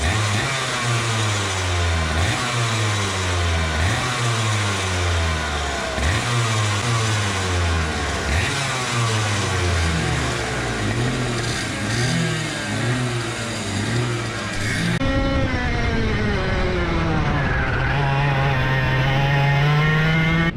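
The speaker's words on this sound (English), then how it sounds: "I don't know if you can hear the carts in the background." Racing kart engines running on a track on a cold practice day, several small engines repeatedly revving up and dropping off in a rapid cycling rhythm, then one engine sweeping past at a steady drone, loud and close.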